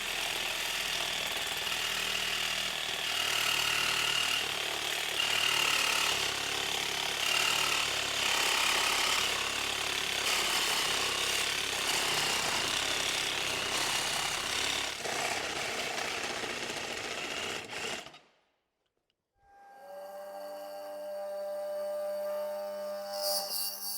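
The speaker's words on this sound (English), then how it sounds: "I think we're actually going to try the Sawzall on this. We have some carbide blades that should really cut through this fast." Sawzall reciprocating saw fitted with carbide blades cutting through metal in a woodworking shop, a loud continuous rasping buzz for about eighteen seconds, then a brief stop before a quieter mechanical whine resumes.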